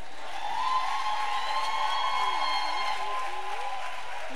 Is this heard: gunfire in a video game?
no